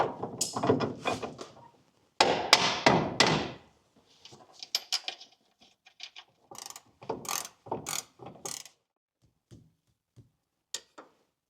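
Bolt tightened during a winch install on a Mercedes Sprinter, giving bursts of rapid ratcheting clicks that start loud and close, then thin into shorter, scattered clicks and taps with pauses between.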